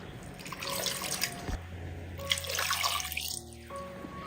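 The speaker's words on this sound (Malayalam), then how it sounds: "ഇനി ഇതിലേക്ക് ആവശ്യത്തിനുള്ള വെള്ളം ചേർത്ത് കൊടുക്കാം." Water pours and trickles into a dosa batter mixture in a kitchen, a soft continuous splashing stream with small drips and gurgles, fairly quiet, with no voices.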